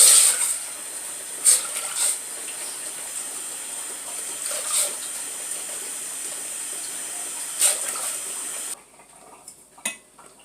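Four cups of water with a tablespoon of vegetable oil heating toward a boil in a pot, a steady high hiss with a few soft clinks, cutting off near the end to near quiet.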